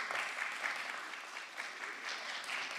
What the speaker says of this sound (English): Come on, guys, we can do a lot better on the applauses here.